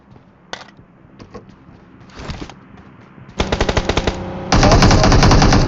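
Bursts of automatic gunfire in the PUBG Mobile battle game, starting with scattered shots and building into loud, sustained rapid-fire volleys close by.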